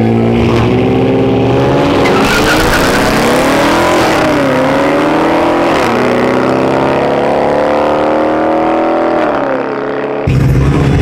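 A Dodge Hellcat doing a burnout on the street, its engine roaring loudly and continuously as the revs waver up and down, before the noise cuts off sharply near the end.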